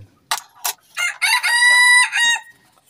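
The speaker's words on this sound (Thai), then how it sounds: "โอ้ไก่โตบ่คือไก่ตีเนาะกันเอก" A rooster crows once, loud and close, a long drawn-out call in rural northeastern Thailand, preceded by a few short sharp knocks or clucks.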